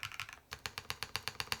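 Keystrokes on a Lotus80 TKL keyboard with butterfly linear switches and an aluminum top-mounted plate, a quick flurry followed by a steady run of evenly spaced, close clacks.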